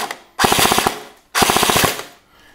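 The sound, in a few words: airsoft rifle firing full auto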